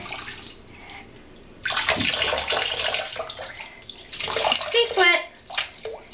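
A child splashing and sloshing water in a bathtub, bursts of close, bright splashing in uneven waves, with an adult speaking softly at times.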